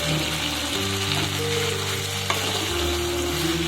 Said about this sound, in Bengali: ভিতরে দিয়ে দেব ভেজে রাখা ডাটাগুলো